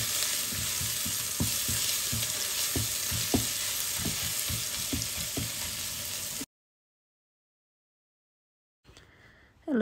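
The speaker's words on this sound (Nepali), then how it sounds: "अदुवा लसुनलाई पनि मजाले भुटेर ब्राउन कलर आउने गरेर मजाले भुट्नुपर्छ" Ginger and garlic frying in a pan for chicken biryani, sizzling steadily with repeated scraping stirs for about six seconds, then silence and a brief return of faint cooking noise.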